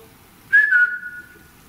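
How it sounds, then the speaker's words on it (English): A single short whistled note rises and then glides down, fading over about a second in an otherwise hushed, empty old theatre. "It's like a whistling."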